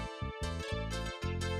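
A sustained synth pad plays alone without equalization, steady and full, with rich harmonic layers shifting through a few chord changes.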